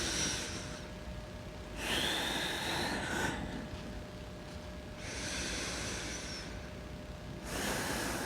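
Slow, deep breaths taken during a yoga flow, three long airy inhale-exhale bursts spaced a few seconds apart, close and hissing, with quiet pauses between and no talking.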